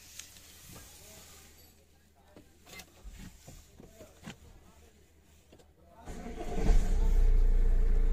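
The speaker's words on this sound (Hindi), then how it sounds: "तो अब हम गाड़ी स्टार्ट करते हैं" A Tata Harrier SUV in for service sits with faint clicks and background noise for about six seconds, then its engine cranks and fires into a loud, steady running rumble.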